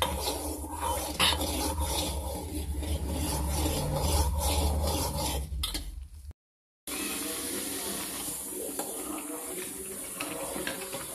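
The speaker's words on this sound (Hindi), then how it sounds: "इसको लगातार चलाते रहिए।" Spoon scraping and stirring cream boiling in a pan as it renders into homemade ghee, a continuous close rubbing, bubbling sizzle with a brief gap before it resumes.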